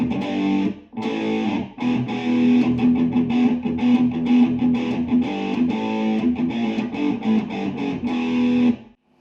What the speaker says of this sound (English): The next one is the distortion, so let's just whack the gain up for this one.